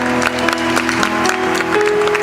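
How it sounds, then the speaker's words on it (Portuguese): A Catholic congregation at the Rebanhão 2014 gathering claps along in a busy, continuous patter, with sustained musical tones ringing underneath the applause throughout. "Vamos amar a cruz, vamos aplaudir a graça do Senhor que é nos dada."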